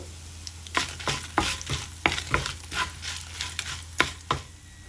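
Four or five dried red chillies fry in hot oil for a tomato mint chutney, a steady close sizzle broken by repeated bright scraping stirs at an uneven rhythm, with no voices.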